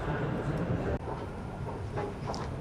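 A Tehran metro subway train rumbles and clatters in a station, a steady low mechanical roar with a sharp clunk and faint squeals, heard close amid underground ambience.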